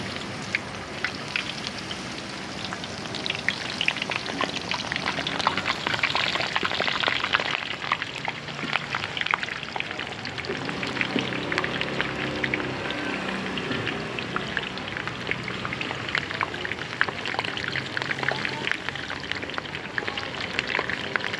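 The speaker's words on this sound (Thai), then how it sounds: "หย่อนเป็นปลาหมึกกับแป้งทอดเลย" Squid and batter deep-frying in hot oil, with a loud, steady crackling sizzle full of fine popping bubbles that continues unbroken throughout, and no talking.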